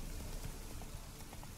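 Rain falling in The Witcher 3 video game: a brief, dense, even hiss of steady downpour with faint patters, quiet and continuous with no voices.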